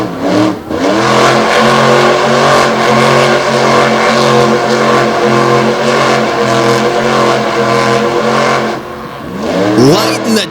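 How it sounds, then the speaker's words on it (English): The Stinger Unleashed monster truck at a Lake Erie show roars loudly and close as the engine is held at high revs with tires spinning, a sustained throaty drone that drops off near the end. "Lighting the tires up on Stinger Unleashed"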